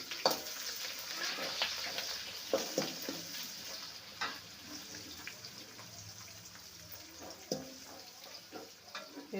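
Two chopped onions fry in a pan with curry leaves for fish kulambu, a quiet continuous sizzle punctuated by frequent stirring scrapes and taps.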